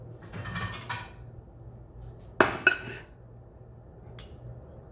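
Plates and dishes clink in a home kitchen: a few soft clatters early on, then two sharp, close ceramic knocks near the middle and a faint final clink, over a low steady hum with no talking.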